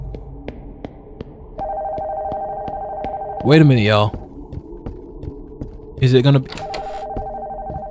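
Telephone ringing in a haunted house video game, a steady electronic ring tone running through most of the moment while someone talks over it.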